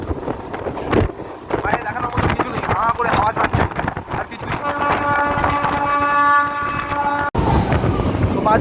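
A Tarakeswar–Howrah train rumbles past close by with rattling wheels and a sustained horn blast, loud throughout, with wind buffeting the microphone and a brief cut near the end.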